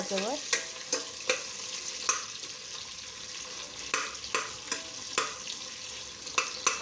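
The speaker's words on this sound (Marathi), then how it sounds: "आता लाल मिरच्या हिरव्या मिरच्या आणि कांदा छान असा लालसर होईपर्यंत परतून घ्यायचा आहे मंद" Onion with red and green chillies frying in a pan for soybean biryani, a steady sizzle under repeated sharp scraping stirs of a spoon against the pan, close and alone.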